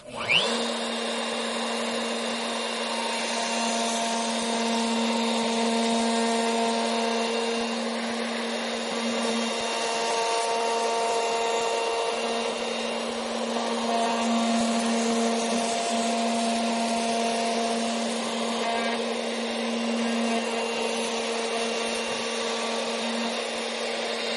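A hand router cuts coves into a wood workpiece with a continuous high whine, moderately loud and close, holding a steady pitch with slight shifts as the cut progresses.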